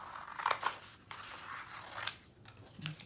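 Scissors snipping away excess paper from a Christmas card craft piece, a few short close crisp cuts spaced apart over a quiet room background, no talking.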